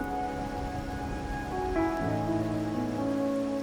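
Steady rain falling and pattering on surfaces in the video game Wuthering Waves, a dense even patter heard alone under soft sustained musical tones, with no talk.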